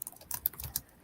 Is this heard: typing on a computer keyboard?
yes